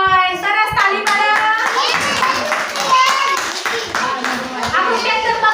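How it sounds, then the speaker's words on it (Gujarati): A group of children at an anganwadi claps in quick bursts of hand claps while young voices chatter and call out over and between the claps, close and loud. "સરસ, તાળી પાડો"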